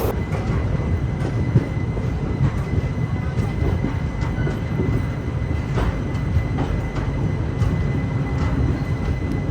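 The 12768 Santragachi–Hazur Sahib Nanded Superfast Express, a passenger train, rolls into Adilabad railway station with a loud, steady rumble and faint rhythmic wheel clicks throughout.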